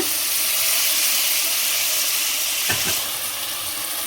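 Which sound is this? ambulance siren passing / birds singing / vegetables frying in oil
vegetables frying in oil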